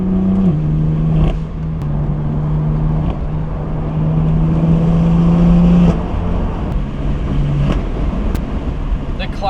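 BMW M4 with a Stage 2 Plus tune and upgraded exhaust, revving loudly up close in steady droning pulls with sharp pops, while people talk excitedly nearby.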